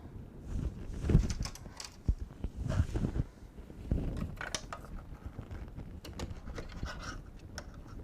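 A sewing machine's presser foot is swapped out by hand, giving a run of small close-up clicks, snaps and light metallic rattles at an uneven pace, with no talking.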